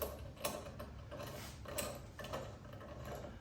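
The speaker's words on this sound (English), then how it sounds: "Putting them on by hand so we don't cross thread the lugs." Golf cart lug nuts threaded on by hand onto a Polaris wheel adapter give a quiet run of small metallic clicks and ratcheting ticks, close and steady, with no talking.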